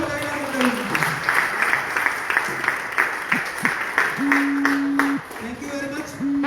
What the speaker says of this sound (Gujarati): તાળીઓના ગણગણાટથી વધાવી